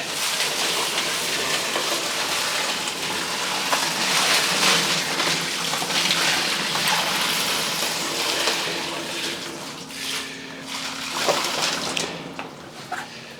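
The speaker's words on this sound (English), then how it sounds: "Do a little bit of a rinse here so you can see what we're looking at." Water runs steadily from a tap over a load of tumbled stones and large specimens just unloaded from a rock tumbler. A continuous rushing splash with occasional clinks, close and fairly loud, and no one talks.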